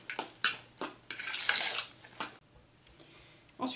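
Mushrooms being stirred into crumbled duck confit filling for a duck and foie gras tourte: a few close, scraping strokes of a spoon in a bowl or pan, a loud burst in the middle, then a quieter pause before another stroke.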